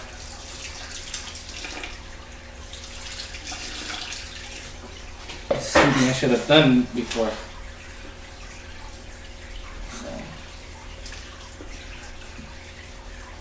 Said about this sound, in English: Okay, so I'm gonna add some water slowly,